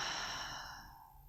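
A long, deep exhale during a guided yoga breathing exercise, a soft breathy rush that starts full and slowly tapers off over about a second, close and alone.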